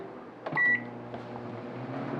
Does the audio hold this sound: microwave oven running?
yes